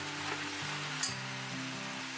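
Drained, rinsed corn hits a hot pan and sizzles in a steady broadband hiss, with a faint clink partway through and no one talking.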